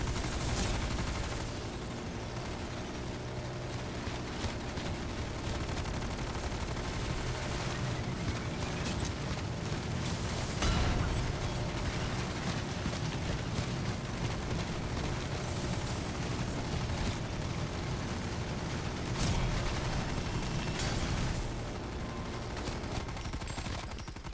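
Sustained rapid gunfire aimed at a boss in the DOA3 video game, a dense unbroken rattle of automatic shots mixed with booming blasts that continues throughout.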